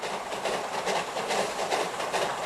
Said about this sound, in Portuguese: o apito da Maria Fumaça ainda ecoa pela mata